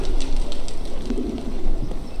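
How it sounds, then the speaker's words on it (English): Birds calling outdoors in the video game The Medium, with crows or ravens in a run-down place. Soft cooing calls sound over a steady ambient bed, moderately near and fairly continuous. "Look at all those crows."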